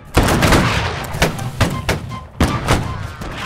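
A musket volley in Holdfast: Nations At War cracks out as a ragged series of sharp, loud shots over a few seconds, some bunched together, others spaced apart and close.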